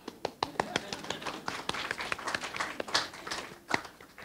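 A lecture audience claps in a loose, uneven round, distinct hand claps standing out over a steady patter, moderately close and lively.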